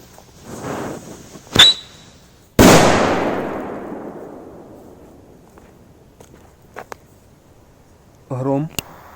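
A Cobra firecracker goes off outdoors with a sharp, loud bang followed by a long decaying echo, preceded by a smaller pop and footsteps, with scattered faint clicks and a brief voice near the end.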